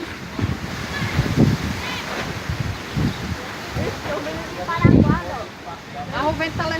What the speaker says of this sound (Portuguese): o vento tá levando a coisa